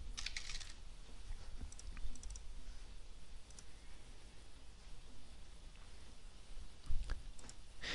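Quiet clicking of a computer keyboard as a new folder name is typed, with irregular bursts of keystrokes close by against a soft background hiss.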